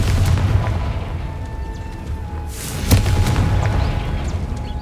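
A Confringo blasting spell explosion in the Hogwarts Legacy video game, a deep booming burst over a loud rumbling background, with a sharp crack near the middle and a lingering low roar.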